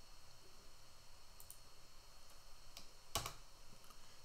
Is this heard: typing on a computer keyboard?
yes